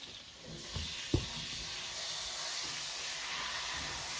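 Corned beef sears in a hot pan, giving a steady hiss and sizzle with a brief clunk near the start. It is heard up close with no voices.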